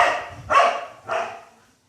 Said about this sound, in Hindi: अजनबी को तो छोड़ेगा ही नहीं, भौंक भौंक के बुरा हाल कर देगा।